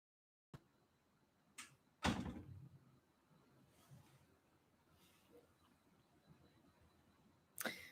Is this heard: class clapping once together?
no